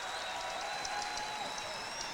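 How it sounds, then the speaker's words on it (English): Steady applause from the Miami home crowd at a 1988 college basketball championship game, a dense even patter of clapping sustained throughout and heard from a distance, with no talk over it. "And a nice hand from the Miami crowd here."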